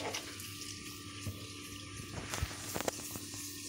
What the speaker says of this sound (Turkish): Et yıkanmaz ama bir yıkayacağım.